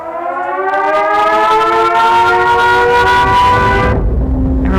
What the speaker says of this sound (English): The feeling when the siren goes off,